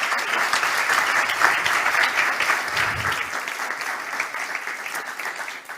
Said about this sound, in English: Big applause for Team Dado